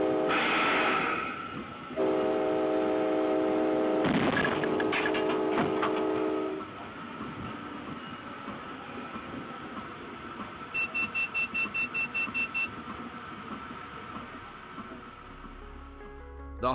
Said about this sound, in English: The harsh, screeching sound you heard was the engineer pulling the brakes.